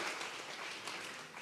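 A church congregation applauding during a sermon, a steady wash of many hands clapping together, moderately distant and continuous through the short stretch.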